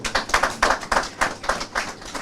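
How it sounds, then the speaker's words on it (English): At a political gathering announcing an NDC flagbearer bid, a small group claps in a loose rhythmic pattern of about eight or nine distinct bursts, fairly loud and close, with no speech over it. "So clap for yourselves."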